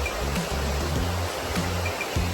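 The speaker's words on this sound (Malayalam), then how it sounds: "അപ്പൊ ആടുന്ന് വീഴുന്ന വെള്ളമാണ് ഇങ്ങോട്ട് വരുന്നത്" Water spills steadily from the Chiklihole Reservoir in Coorg, making a dense, even rushing hiss of falling and flowing water with no voices.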